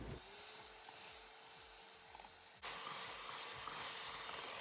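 An electric mixer whisks butter and sugar for a cardamom almond cake, a faint steady motor whir with a rhythmic churning pattern, jumping suddenly louder and brighter partway through as the speed rises.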